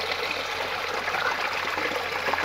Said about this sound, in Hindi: कैसे अच्छा पानी गिर रहा है।